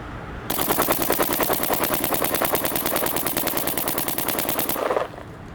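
Luxe Ice paintball marker fires a long rapid burst of shots over a chronograph, a dense, loud, steady mechanical rattle of pops running about four and a half seconds before stopping abruptly.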